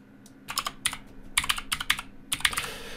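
Fingers type on a computer keyboard in bursts of quick, close key clicks separated by short pauses, with no talking.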